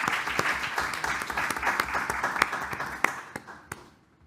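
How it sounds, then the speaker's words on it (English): Audience applause fills a conference hall at the close of a presentation, a dense sustained clapping that thins into a few scattered last claps and then falls away. "Round of applause."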